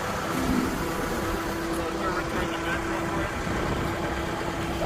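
A 2021 Caterpillar 910 wheel loader engine runs at a steady idle, a continuous low mechanical hum with a faint whine, while people talk over it.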